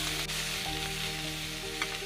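Tatsoi and winter bamboo shoots are stir-fried in lard over high heat, a loud, steady sizzle with a faint hum beneath and occasional small scrapes of stirring.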